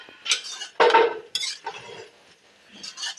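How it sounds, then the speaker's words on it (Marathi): A spoon mixes a ridge gourd vegetable dish with chana dal and coconut in a pan, making a few quick scraping and clinking strokes against the metal, close and moderately loud, with no talk. "मिक्स करायचं."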